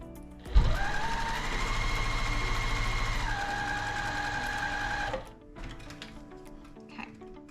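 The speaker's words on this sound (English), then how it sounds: "Sometimes you can back stitch on the front and on the back when you're sewing your rows together." A sewing machine stitching quilt rows together for a brick-pattern quilt, running in one steady, loud whirring burst of about four and a half seconds with a pitch drop partway, then stopping into quiet handling noises.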